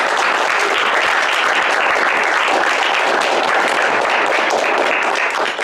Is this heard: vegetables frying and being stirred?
no